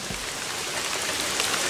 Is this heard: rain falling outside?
yes